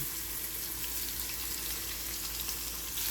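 Garlic and ginger sauté in hot oil in a pan for a beef papaitan, a close, steady sizzling hiss with light stirring and no voices.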